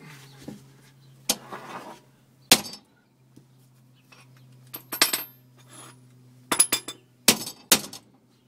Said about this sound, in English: Here goes the leaf spring.